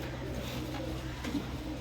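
A mixed-breed Abra pigeon and other loft birds coo in low, repeated throaty phrases, close and steady with a brief louder coo near the end.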